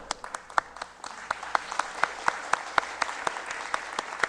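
An audience at a free-software conference lecture applauds, a steady burst of many hands clapping with sharp individual claps standing out, close and sustained for a few seconds.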